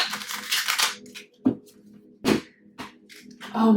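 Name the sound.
shuffling tarot cards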